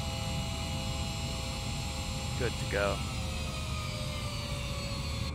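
Boeing 787-10 engines in Microsoft Flight Simulator 2020 give a steady, even drone with sustained tonal whine throughout, while a voice speaks briefly near the middle.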